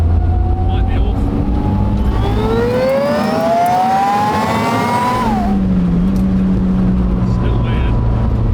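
The G25 550 car's engine climbs in pitch through a rising pull, its tone sweeping upward before dropping sharply as the throttle eases, with steady road and wind roar throughout.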